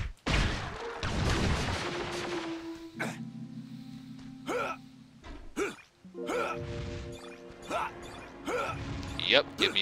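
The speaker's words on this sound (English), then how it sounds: "Let's destroy this boring cannon." A cannon is destroyed on the historic battlefield level of the Ben 10 Protector of Earth video game: several sharp, punchy impact blasts strike over sustained tonal game music, mixed with brief character vocal sounds.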